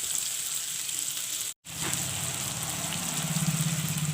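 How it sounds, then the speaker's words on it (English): Onions fry in a pan for a chicken curry, making a dense, steady sizzle like rain on a surface, with a brief cut in the middle and the crackle swelling slightly afterward. "Put some onions. Let the onions fry pinkish brown."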